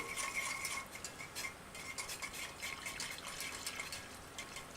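A spoon stirs agar powder into liquid in a pot, giving faint, soft scraping and light clinking strokes that repeat steadily through a quiet background.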